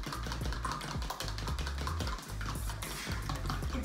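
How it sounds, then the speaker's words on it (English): Scone dough being mixed in a bowl, a rapid run of dull tapping and mushy stirring sounds at a fairly even rhythm, close and moderately loud, with no speech. "when you mix your dough"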